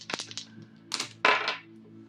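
Dice rolled onto a card deck during a tarot reading, a quick scatter of light clicks and clatters followed by a louder rattling tumble as they settle, with no one talking.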